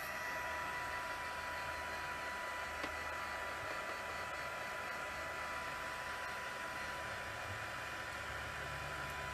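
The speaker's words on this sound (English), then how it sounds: "We'll bump the heat tool up to high." Crafting heat tool blowing hot air over Brusho and bleach stampwork, a steady close whooshing roar holding without a break from start to end.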